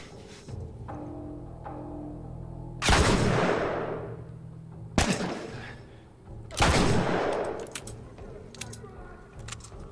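Gunfire in The Last of Us: three heavy, booming shots spaced a couple of seconds apart, each with a long ringing decay, over a low steady game ambience.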